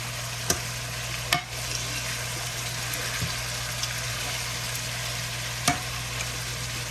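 Asparagus sautés in a pan with a steady, moderate sizzle, a low constant hum underneath and a few sharp clicks of utensils against the pan; no one speaks.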